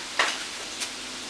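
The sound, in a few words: ground turkey frying in a pan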